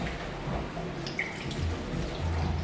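Silver tequila poured for a cocktail, a soft trickling, dripping liquid stream close by, fairly quiet and continuous over a low background hum.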